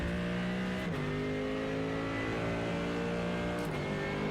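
A Mercedes GT3 race car in a racing video game at Road America accelerates hard, its loud engine note climbing steadily with two quick upshifts that briefly drop the pitch before it rises again.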